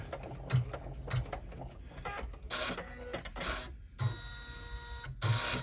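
An embroidery machine stitching a pleat line on a reusable snack bag in the hoop, with rapid mechanical clatter broken by short pauses and bursts, close by.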